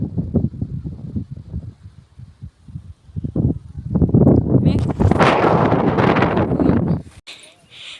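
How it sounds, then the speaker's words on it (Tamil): Strong wind buffets the microphone on a hill road, with loud gusting bursts that build toward a sustained roar before dropping off, mixed with brief talk early on. "செம்ம காற்று"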